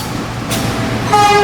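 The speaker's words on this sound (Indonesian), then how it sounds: "ini jalur 3, melintas langsung kereta api Gajayana dari stasiun Malang tujuan Gambir" Gajayana passenger train passing straight through a station on track 3, heard as a brief loud rush of rolling noise with a horn-like tone rising near the end, close by.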